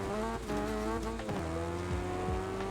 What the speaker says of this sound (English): Gotta use a ton of handbrake to get around these corners